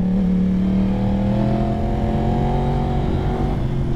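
A 2022 Yamaha R1 sport bike with an ECU flash tune pulls hard under full throttle, engine note climbing steadily in pitch as it lifts into a power wheelie, loud and close for the whole stretch.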